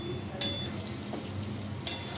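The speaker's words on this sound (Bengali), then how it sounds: "এই আলুগুলো ছেড়ে দিলাম" Potatoes frying in oil in a pan where fish was just fried, a soft continuous sizzle broken by two sharp clacks of a utensil against the pan.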